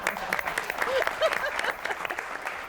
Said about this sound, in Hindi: आपने बिल्कुल सही ताली बजाई